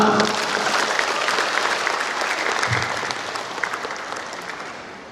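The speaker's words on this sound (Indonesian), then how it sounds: "tepuk tangan untuk kita semua" Sustained audience applause at a university graduation ceremony for the Faculty of Economics and Business, a dense wash of many hands clapping, loud and steady, gradually easing over five seconds with no talk.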